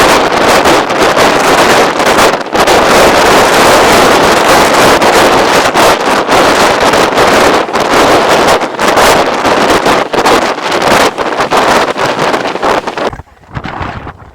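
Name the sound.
very strong wind at Kanyakumari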